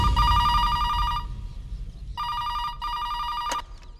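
An old-style telephone bell rings loud and close in a film scene, with two long ringing bursts separated by short pauses, then a brief click as it stops.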